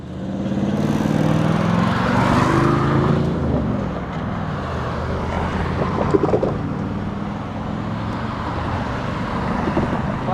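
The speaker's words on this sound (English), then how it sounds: "A lot of traffic still coming." Road traffic rolls past a cyclist on a repaved road, a loud vehicle swelling and fading in the first few seconds, followed by steadier road rumble and wind noise with a brief clatter midway.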